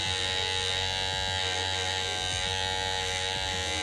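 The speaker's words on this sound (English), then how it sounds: "These are my favourite mini trimmer." A small electric mini hair trimmer runs close by with a steady high-pitched buzz and dense harmonic whine, continuous and even, with no talking.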